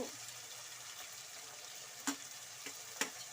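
Gentle sizzle of frying in a pan while making uppittu, a steady faint crackle with a few soft stirring knocks and clinks.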